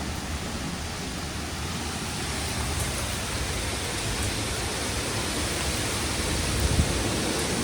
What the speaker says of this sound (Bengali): শিল পড়ছে, শিল।